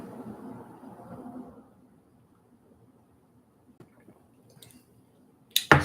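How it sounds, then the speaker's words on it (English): Soft, close sipping and swallowing sounds from someone drinking water, with faint wet squishes and small clicks over a quiet room, ending in a sharper burst. "Sipping on my water."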